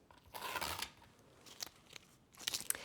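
Scissors trimming a strip of duct tape, a few quiet close-up snips and crisp cuts with short pauses between them.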